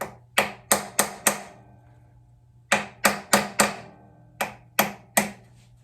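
Sharp hammer blows in quick bursts of three to five strikes, separated by short pauses, ringing slightly after each hit, close and loud with no talking.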